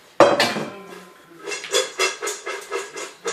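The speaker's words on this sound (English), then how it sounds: "Just wanted to mix the popcorn around." Popcorn tossed and shaken around in bowls, a sharp clatter at the start followed by a regular series of rattling shakes, close and fairly loud with no talking.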